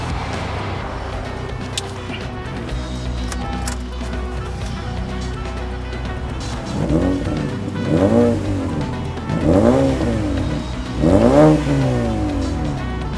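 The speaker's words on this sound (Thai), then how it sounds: "เดี๋ยวเร่งให้ฟัง" A 2012 Honda Civic FB 1.8E engine idles with a low rumble, then revs up three times in rising, roaring bursts of exhaust, each swelling and falling back, close by.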